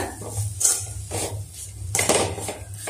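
Masala is mixed in a pan with a spoon, making repeated scraping and clattering strokes at close range with no talk.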